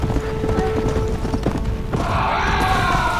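Steady clip-clop of horse hooves trotting at a moderate pace in the video game Red Dead Redemption: Undead Nightmare, close and fairly loud, with a brief whinny-like tonal sound near the end and no talking.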